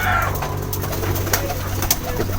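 Pigeons coo softly and repeatedly nearby, low throaty calls over a steady background hum with a few light taps.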